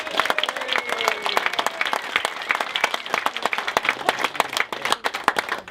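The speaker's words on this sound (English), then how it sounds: "a big round of applause to Ellis, please." Wedding guests applaud after the groom's speech, a dense, steady round of clapping from a nearby crowd lasting throughout, with faint talk underneath.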